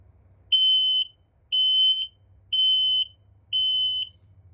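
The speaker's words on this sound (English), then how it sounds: "there's the sync sound between the 2 of the alarms. One's for LP, one's for carbon monoxide." A carbon monoxide alarm and an LP gas alarm beep together in sync inside a 2021 Forest River Cherokee Wolf Pup travel trailer, four long shrill tones evenly spaced over a low hum, loud and close.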